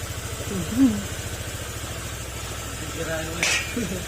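A Honda Click 150 motor scooter engine idles nearby with a steady, rapid putter, while a person talks over it.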